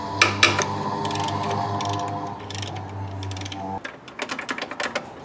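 A 15mm socket on a big 1/2-inch drive ratchet wrench clicks as it loosens the serpentine belt tensioner on a 1996 Jeep Sport with A/C, with bursts of close, rapid ratcheting over a steady low mechanical hum.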